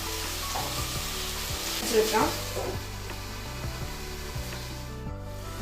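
Chicken pieces sizzle and fry in a pan for Kashmiri chicken curry, a steady crackling hiss with scraping and stirring noises, close and even throughout.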